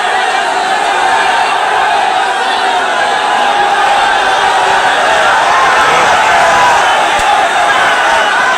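An angry crowd of protesters shoves against police in a constant, dense roar of many voices, loud and close with no breaks.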